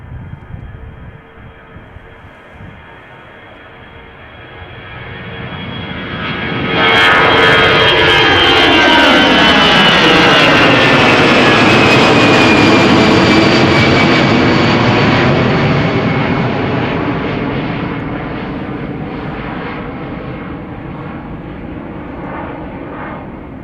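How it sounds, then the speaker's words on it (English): A 27-year-old Airbus A319 jet takes off from Schiphol Airport bound for Frankfurt, its engine roar swelling quickly from a low rumble to a loud, sustained thrust, then slowly fading with a falling whine as it climbs away. "going to Frankfurt, A319, this one is relatively old"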